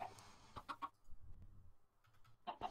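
Minecraft chicken clucking in a few quick, fairly quiet calls at the start and again near the end, with soft background noise between.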